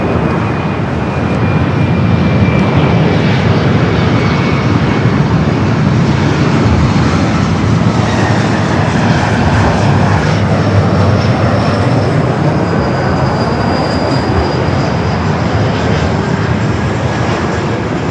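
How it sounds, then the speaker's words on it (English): An Alaska SkyWest Embraer E-Jet airliner at Los Angeles International Airport sends out a continuous, loud jet engine roar that holds steady with a faint high whine across the whole stretch. "Coming from Santa Rosa, Alaska SkyWest E-Jet."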